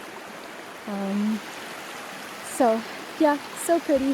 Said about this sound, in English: I think this is a continuation of the Moshannon River or Moshannon Creek